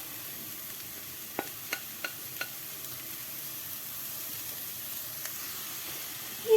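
Carrot and beet fry quietly with onion in a pan with a soft, steady sizzle, punctuated by a few light clicks of a utensil stirring.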